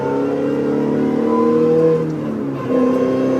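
A race car engine on the Winton circuit pit lane drones steadily with a high whine, its pitch shifting slightly as it revs, loud and close throughout.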